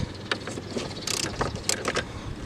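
Plastic timing belt cover being pried and lifted off an Opel Astra H E10 engine, with a few sharp clicks, snaps and rattling clatters close by, scattered over a couple of seconds.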